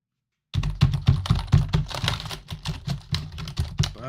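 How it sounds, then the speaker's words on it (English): Fast, steady typing on a cheap Amazon Basics computer keyboard, a dense run of close, clacking keystrokes with no talk. "I just don't like the feel of this keyboard. That's an Amazon Basic."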